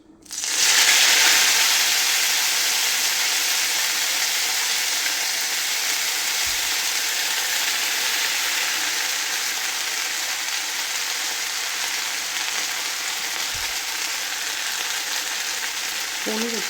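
Mint leaves hit hot oil in a pan and burst into a loud, hissing sizzle that settles into a steady, bright frying crackle for the rest of the stretch.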